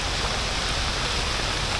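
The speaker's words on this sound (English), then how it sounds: "I love it when it rains, it's nice and cool." Rain falls steadily on Patong, Phuket, in the rainy season. It makes a dense, loud, even hiss of heavy downpour with no talking.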